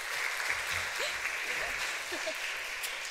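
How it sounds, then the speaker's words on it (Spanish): Audience applause at a Spanish-language stage event as a guest is welcomed on stage, a steady wash of clapping throughout at moderate level with faint chirpy sounds above it. "Un aplauso para él."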